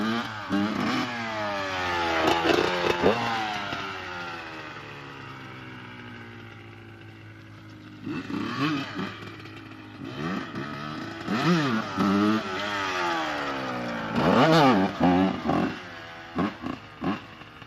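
2001 Honda dirt bikes riding past, engines revving and shifting with rising and falling whines in repeated bursts, loud and close, sometimes several overlapping, with a brief quieter lull in the middle.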